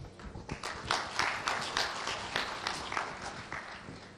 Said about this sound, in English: if we could have another round of applause as we stand up